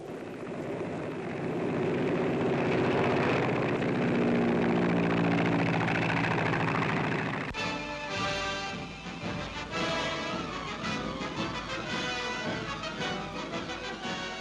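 A small L-4 liaison plane's engine drones steadily in the open for the first half, with a harmonic hum, then shifts to a rougher, choppier engine texture that stays moderately loud until the end.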